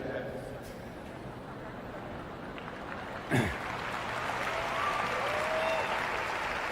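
An audience at a Sadhguru Save Soil talk in Delhi claps in a steady, moderate wash of applause under ongoing speech, swelling slightly toward the end.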